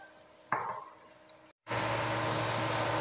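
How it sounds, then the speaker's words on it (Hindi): Okra dropped into hot oil in a kadai gives a brief clatter, then after a short gap a loud, steady, broadband sizzle of frying takes over, close and continuous with no voices. "यहाँ पर मैंने एक पाव भिंडी ली थी, उसको मैं डाल के तो फ्राई कर लूँगी।"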